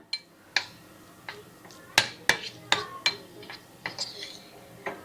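A spoon stirs melted chocolate in a bowl for modak, giving scattered sharp clinks and taps against the dish at an irregular pace, with a voice speaking alongside.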